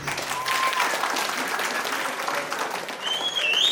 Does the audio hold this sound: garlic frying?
no